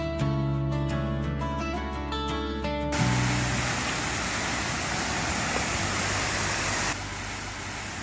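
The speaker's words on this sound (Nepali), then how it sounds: "फेवातालको पानीबाट बनेको सुन्दर झरना पुग्न सकिन्छ।" Waterfall fed by Phewa Lake water near the power house in Pokhara during the rainy season, roaring as a steady broadband rush; a tonal musical passage fades out in the first seconds, leaving continuous loud falling water throughout.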